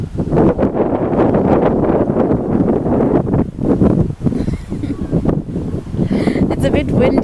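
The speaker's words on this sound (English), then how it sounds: "It's a bit windy today," Strong gusty wind buffets the microphone at Camps Bay beach, a loud low roar under continuous talking voices.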